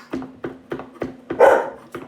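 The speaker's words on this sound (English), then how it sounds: "Just loves barking at anybody," A dog barks close by, six sharp barks in an even rhythm, the fifth drawn out into a harsher, louder yelp.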